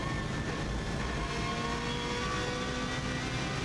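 A race car at full throttle on the Isle of Man TT road course, heard from onboard as a dense, continuous engine roar with a steady high whine, loud and unbroken with no talking.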